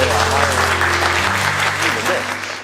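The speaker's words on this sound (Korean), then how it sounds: "그분들을 위해서 박수 한번 크게." An audience breaks into sustained applause, dense clapping that holds steady and then slowly tapers off, with a low tonal hum running underneath.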